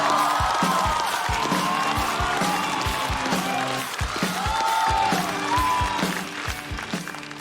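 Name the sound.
audience applause welcoming a comedian on stage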